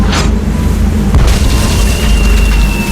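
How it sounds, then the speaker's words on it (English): A cannon fires in the video game Tales of Monkey Island: one loud, close boom with a sharp blast, then a heavy rumbling tail that fills the rest of the moment, with no talk. "It's amazing how many of life's problems are solved by indiscriminate cannon fire."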